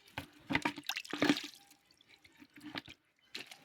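Water and a liquid fertilizer solution for feeding roses pour and trickle in short splashy bursts, a quiet sound that fades to scattered drips, with no talk over it.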